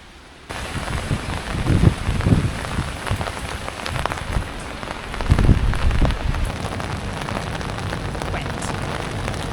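Rain patters steadily on London city streets in winter, a dense hiss of drops with a few heavier splashes and louder surges, and no one speaks.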